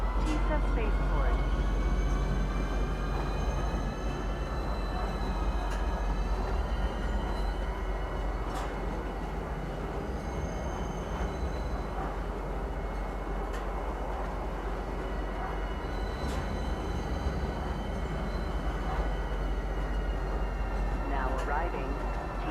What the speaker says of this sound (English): Please watch your step when disembarking the train.